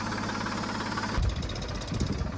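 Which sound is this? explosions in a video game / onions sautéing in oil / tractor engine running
tractor engine running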